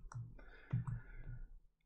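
Soft clicking keystrokes at an uneven typing pace, close by and fairly quiet, with no talking.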